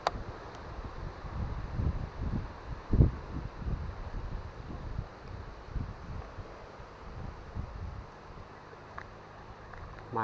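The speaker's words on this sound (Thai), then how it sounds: "ลมก็เริ่มจะมาแล้วครับ" Wind gusting outdoors on a fishing trip for snakehead along a grassy roadside spot, a steady low rumbling wash with uneven gusts swelling and fading, close to the microphone with no talk.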